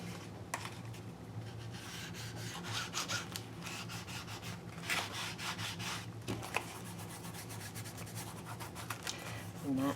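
An altered book cover's edge is distressed by steady rubbing and scraping, a continuous close gritty friction with short strokes throughout and no talk.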